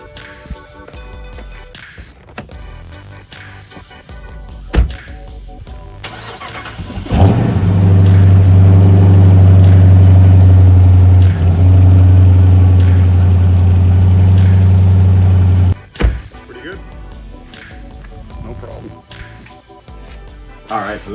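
A 5.7-liter V8 car engine cranks and catches, then idles loudly with a deep, steady rumble for several seconds before shutting off. Clicks and handling noises come before and after.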